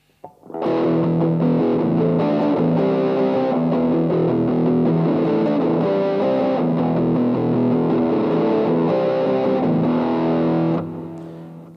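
Distorted electric guitar running through a Boss DS-2 Turbo Distortion pedal, tone set to 25 and distortion at half, played as a steady, loud stream of crunchy chords that fades out cleanly at the end.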